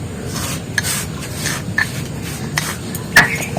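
Crushed powder from old clay lamps being ground into a paste on a flat grinding stone, with a steady, close, gritty rubbing and scraping broken by a few faint clicks.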